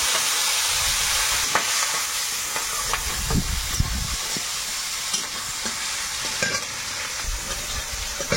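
Panch phoron five-spice, garlic and green chili fry in hot oil for a Sundarban-style home dish, giving a steady close sizzle broken by repeated scraping stirs of a spatula in the pan.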